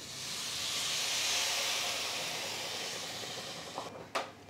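Chicken stock poured into flour roasted over a low flame gives a steady broad sizzling hiss that swells and slowly fades, with a couple of brief clinks near the end.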